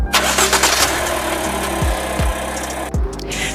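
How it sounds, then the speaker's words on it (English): A car engine cranks in several quick, repeated turnover bursts, powered by a Rizzen 12,000mAh portable jump starter, then catches and settles into a loud, steady idle close by, without talk. "Now you can start your engine."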